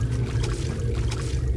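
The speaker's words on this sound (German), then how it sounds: "Wasser." Water splashing and churning in the Deus Ex video game, a steady, full-bodied wash of sloshing water lasting throughout with no talk over it.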